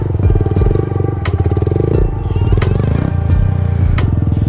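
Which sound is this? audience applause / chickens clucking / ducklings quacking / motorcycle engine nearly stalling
motorcycle engine nearly stalling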